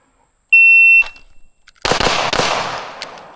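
A pistol fires a rapid burst of shots in a timed Bill drill, sharp cracks tumbling close together after a brief high electronic shot-timer beep, loud and near with a ringing, crackling tail.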